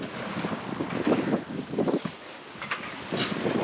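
Wind gusts across a sailboat carrying a larger sail, heard as steady, fairly faint rushing and buffeting with irregular surges and some water noise.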